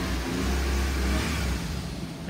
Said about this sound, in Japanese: エンジンを吹かしますよ。